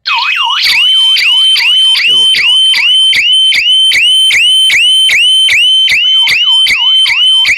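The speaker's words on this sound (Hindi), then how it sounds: "ये सायरन भी बज रहा है" A loud electronic security alarm siren wails in rapid repeating sweeps, piercing and close, cycling steadily without pause.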